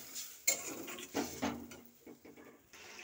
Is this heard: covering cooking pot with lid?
yes